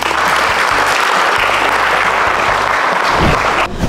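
Students in a school audience give steady, dense applause, loud and continuous like a full hall clapping together, fading slightly at the end.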